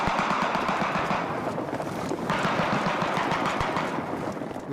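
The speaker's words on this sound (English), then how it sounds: "With covering fire from the high ground, Bertie leads his troop forward." Sustained covering gunfire from soldiers on high ground during an infantry advance: rapid, dense automatic bursts rattling continuously and loudly, overlapping into a steady roar.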